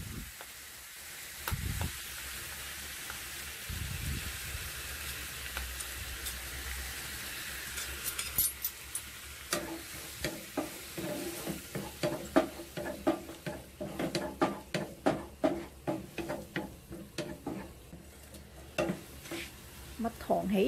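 Honey bubbling and sizzling in a pan while semi-dried oysters cook, a soft hiss joined by rapid clicks of stirring and utensils scraping the pan, growing busier over time.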